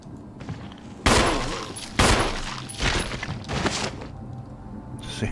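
Several loud gunshots fired at a zombie in the 1996 Resident Evil HD remaster, sharp blasts spaced about a second apart with one trailing shot, alone with no talk.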